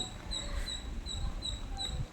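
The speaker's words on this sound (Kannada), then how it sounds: "ವಿಡಿಯೋ ಮಾಡಬೇಕಾದ್ರೆ ಒಂದು ಪುಟಾಣಿ ನಾಯಿ ಬಂದಿತ್ತು" A small puppy at a village fair gives faint, thin repeated whimpers and yips, a few soft high cries spaced across a couple of seconds over low background murmur.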